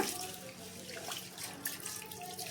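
Rice meant for dosa batter is rinsed by hand in a bowl of water, giving a soft, steady sloshing and trickling close by with no talking.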